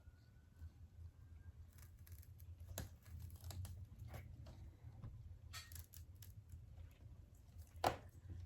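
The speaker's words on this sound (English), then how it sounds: "And now to chop up this last stalk of this plant." Quiet, irregular snips and crunches from scissors cutting a monstera deliciosa stalk close by, ending in one sharper cut, over a low background hum.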